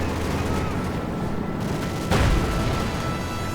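Company of Heroes 2 battle as a Panzer IV command tank advances on Soviet conscripts: a dense, steady roar of gunfire and combat noise, with one louder blast about two seconds in.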